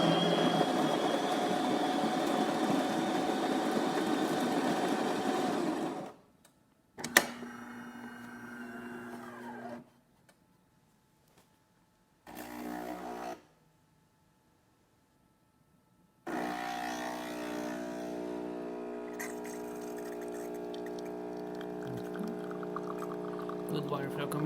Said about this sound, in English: Good water flow coming out of the spouts.